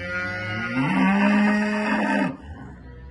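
A cow, a Holstein with a calf nearby, lets out a long, loud, drawn-out moo that ends abruptly, followed by a brief quiet tail.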